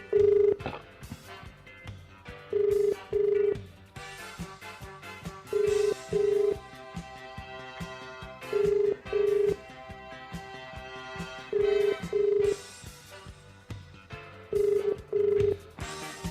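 Cellphone ringing during a live phone interview in typhoon coverage, a steady repeating pattern of paired electronic tones recurring roughly every three seconds over a busy background of music, loud and near.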